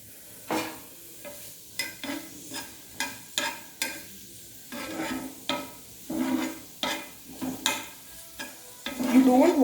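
Onions sizzle and crackle in a hot pan while a utensil stirs and scrapes in short repeated strokes; no talking.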